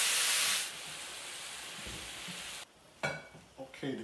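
Chicken breast sizzles and hisses loudly in a hot pan while being stirred, the frying noise steady throughout with a few scraping stirs and brief clatter near the end.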